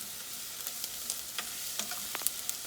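Garlic fries in a pan, giving a soft steady sizzle with small crackles and light scrapes from stirring, close by, with no talking.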